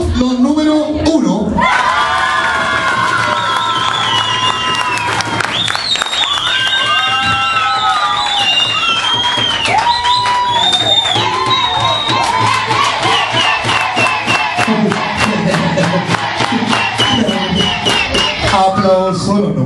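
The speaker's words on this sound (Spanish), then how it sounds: "Aplauso los número uno." A nightclub crowd in Santiago cheers, whoops and shouts loudly and continuously, with rapid applause building in the second half. The dense wall of voices is close and sustained throughout.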